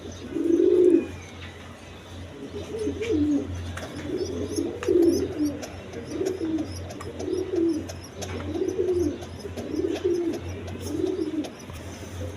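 Red Gola pigeons, a male and a female kept in a loft, coo in a steady run of low, throaty calls repeating about once a second, fairly close, over a faint constant background hum.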